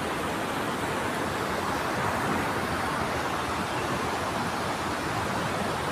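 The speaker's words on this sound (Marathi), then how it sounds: "गावाशेजारी एक धबधबा आहे नदीचा." A river waterfall beside a village in Dapoli, Konkan pours in a steady, even rush of broadband water noise, constant and unbroken with no voices.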